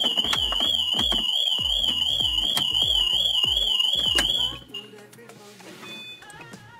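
A loud warbling electronic alarm on a Mercedes W205 wails continuously with regular sharp chirps, then cuts off abruptly as the key transponder disarms it, leaving quieter background sounds and faint confirmation beeps.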